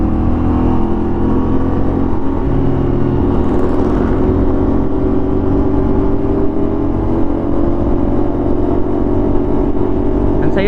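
Several CFMOTO 450SR motorcycles on a group ride, engines droning and revving continuously at close range with a steady whir of riding noise and faint wind.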